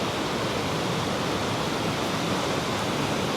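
River Valency running high after rain near Boscastle, a steady, close rush of water with no break or rhythm, filling the whole scene without voices.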